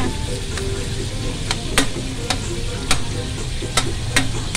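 A spicy dish of chicken gizzards with tomato fries in a pan, a constant sizzle broken by sharp scrapes and clacks as a utensil stirs it every second or so.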